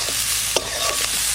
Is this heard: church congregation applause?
no